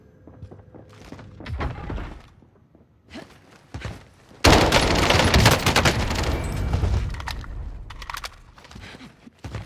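Groza rifle fire in Call of Duty Warzone, heard first as scattered short shots and then as a long loud sustained automatic burst, with some thuds around it.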